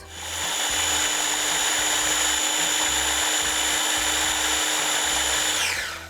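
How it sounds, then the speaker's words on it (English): Strawberries and monk fruit sweetener ground in a kitchen blender or grinder, a loud continuous high-pitched whir running about five seconds before cutting off. "And now we're going to grind the strawberries with the monk fruit"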